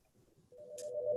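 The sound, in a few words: desk phone ringing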